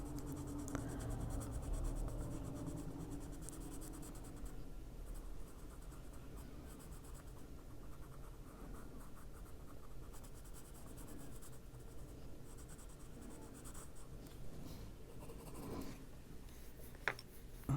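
Colored pencil shading a Christmas-themed picture in an adult coloring book, a soft continuous scratchy rubbing of lead on paper that runs steadily and faintly throughout with no talk.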